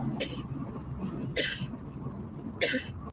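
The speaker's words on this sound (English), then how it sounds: "You don't have to cough in the camera." A person coughs three times in separate bursts, close to the microphone, over a low rumble of background noise and faint chatter.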